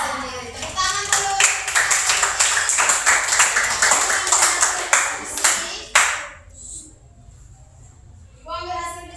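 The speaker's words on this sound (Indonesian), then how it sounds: "Tepuk tangan dulu." A classroom of children claps together in a steady burst of hand claps lasting several seconds, then stops; a teacher's voice speaks before and after the clapping.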